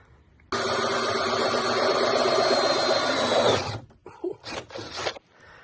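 A power drill turning a 140 mm hole saw on an arbor runs loud and steady for about three seconds, then stops and gives a few shorter bursts.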